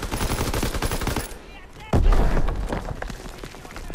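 Rapid automatic gunfire in the World War II shooter Call of Duty WWII, loud bursts of shots that pause briefly and then resume, with a sharp crack at the very end.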